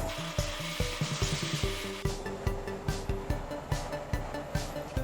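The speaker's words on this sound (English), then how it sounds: "got my microfiber cloth, and I'll just give it a quick wipe down" A microfiber cloth wipes dust off a surface in quick, rhythmic rubbing strokes, heard close and steady for the whole stretch with no voices.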